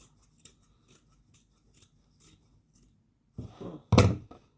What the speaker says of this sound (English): I'll cut it like this, because I'm going to add to it.